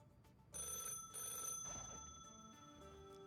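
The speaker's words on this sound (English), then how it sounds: "Is that a phone ringing?" Phone ringing in a trilling, repeated bell-like tone, moderately faint and steady over a few seconds, with no talking.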